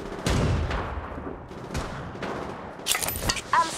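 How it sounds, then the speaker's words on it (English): Gunfire in the Apex Legends video game: several sharp shots and bursts ring out at varied distances, closing with a quick flurry of close, crisp reports. "I'm spotted, taking fire."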